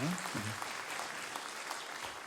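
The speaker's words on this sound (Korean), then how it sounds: "박수를 한번 응원해 주시기 바랍니다" A church congregation claps briefly and faintly at a distance, a short soft patter of applause with a trace of voice at the very start.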